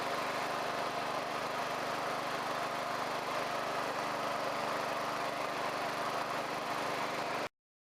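A 1987 Wheel Horse 257H garden tractor engine drones steadily while being ridden, a constant mid-pitched hum heard at moderate distance for about seven seconds before cutting off abruptly.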